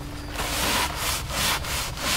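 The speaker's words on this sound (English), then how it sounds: "This method uses a special abrasive pad called the Doodle Bug from 3M." A 3M Doodle Bug abrasive pad scrubbing wet painted exterior wood, giving a series of rhythmic back-and-forth rasping strokes, close and steady, with no talk.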